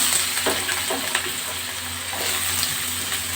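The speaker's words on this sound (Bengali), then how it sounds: "তেল গরম হয়ে গেছে এবার মিষ্টি কুমড়োগুলো আমি ছেড়ে দেবো" Pumpkin pieces tipped into hot oil in a pan, a dense, continuous hissing sizzle with a few light stirring clicks, close and fairly loud, with no one speaking.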